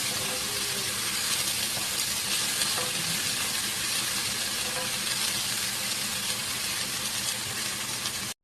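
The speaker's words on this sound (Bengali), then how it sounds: "এখানে আমি ভালোভাবে শাকটা নেড়ে ছেড়ে দিচ্ছি।" Dhenki greens sautéed in a pan over low-to-medium gas, a dense, continuous, close sizzle with scraping and stirring noises running throughout, no voices.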